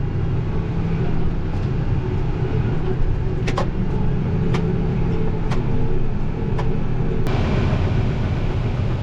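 Heavy farm tractor engine hauling a loaded grain cart downhill, a steady low broadband rumble running throughout at constant loudness, with a few brief sharp clicks and knocks over the top.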